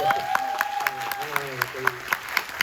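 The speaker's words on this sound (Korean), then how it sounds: "박수 한번 보내주시죠" An audience at a film talk event claps in a brief burst of scattered applause, heard under a voice speaking throughout.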